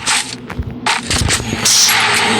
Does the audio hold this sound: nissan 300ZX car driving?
no